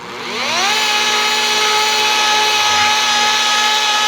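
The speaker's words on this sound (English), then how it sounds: "I like to finish off that by going up and off the surface while still running the polisher" A rotary polisher spins up on a car's paint with a rising whine that settles into a loud, steady, high-pitched hum, running close and continuously without talk.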